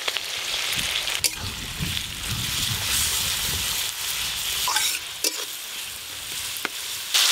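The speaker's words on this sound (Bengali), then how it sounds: "আদা রসুন পেঁয়াজ একসঙ্গে একটু ভালো করে ভাজা ভাজা করে নিয়েছি" Chopped onion with ginger and garlic paste and whole garam masala fry in mustard oil in a wok, a loud steady sizzle broken by scraping stirs of the spatula.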